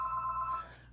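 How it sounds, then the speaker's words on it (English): A telephone ringing indoors, a short electronic ring tone with a steady repeating pulse that cuts off partway through, fairly clear and close with no talking. "Sorry, the phone's ringing."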